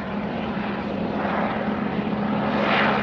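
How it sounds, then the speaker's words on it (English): Police helicopter circling overhead near a desert mountain summit trail in Arizona, a steady, continuous rotor and engine drone that holds at fairly even loudness for the whole stretch, with no talk. "There's your official police helicopter shot."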